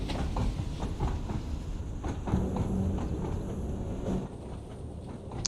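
A Class 483 train in Train Sim World 2 rolls along the rails with a low rumble and faint rhythmic wheel clicks over joints, fairly quiet and steady, no voices.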